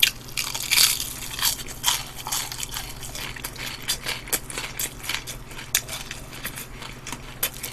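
Crispy Two-Zone fried chicken is bitten and chewed up close during a Korean mukbang. Loud, crackly crunches repeat in an irregular rhythm, with softer chewing and occasional cutlery clinks in between.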